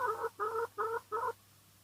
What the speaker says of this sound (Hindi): मुर्गी है मुर्गी।